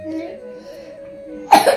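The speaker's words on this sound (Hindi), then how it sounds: "खांसी क्यों आ रही है" A voice murmurs softly, then ends in a short burst of harsh, close coughing.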